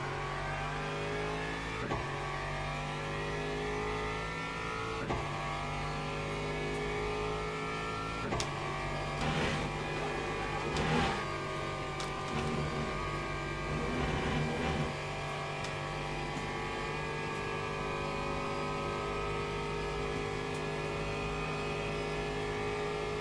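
Hypercar engine racing at Spa in Le Mans Ultimate, a constant loud high-pitched whine that climbs and drops through gear changes over the full length.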